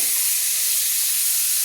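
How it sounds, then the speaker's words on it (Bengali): Prawns fry in hot oil over a medium flame, giving a loud, steady, unbroken hiss that holds level throughout with no voices. "মাঝারি ফ্লেমে রেখে চিংড়ি মাছগুলো ভেজে নেব"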